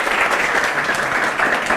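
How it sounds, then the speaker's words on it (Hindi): Loud, sustained applause fills a classroom during a CA Inter law lecture, a steady dense clatter of many hands clapping without pause, with no talking over it. "जोरदार तालियां विकास के लिए."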